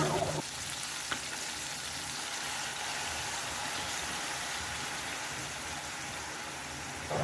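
Chicken sautéing with onion, garlic and ginger in a pot, a loud continuous sizzle and crackle heard up close and nearly alone, with a faint knock near the start.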